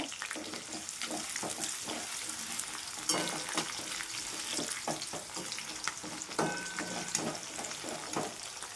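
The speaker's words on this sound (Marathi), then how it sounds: "आता बघू शकता हिरवी मिरची कढईत कारण ती फ्राय होतात ना" Green chillies fry in oil in a kadai, a continuous busy sizzle and crackle with spattering bursts and the odd stirring scrape, close and steady throughout.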